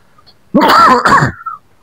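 A person with a bruised, sore chest gives a short burst of rough throat-clearing coughs, close and loud, lasting under a second before trailing off.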